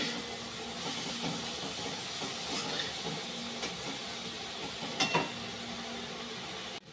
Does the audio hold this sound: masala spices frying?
yes